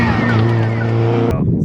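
A race official's car passing on a road, its loud engine drone close by for just over a second before cutting off sharply, with a voice speaking faintly over it.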